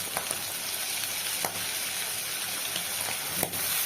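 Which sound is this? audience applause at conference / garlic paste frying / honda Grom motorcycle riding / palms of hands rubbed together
garlic paste frying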